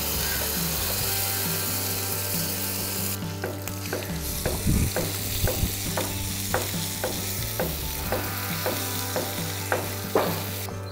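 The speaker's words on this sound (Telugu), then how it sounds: "దీన్ని ఈ నూనెలో సిమ్లో 5 నిమిషాల సేపు మగ్గించండి." Tomato mint chutney sizzling in oil with tempered mustard seeds, cumin and dried red chillies, stirred with repeated scraping clicks of a spoon against the pan, steady frying hiss underneath, close and fairly loud.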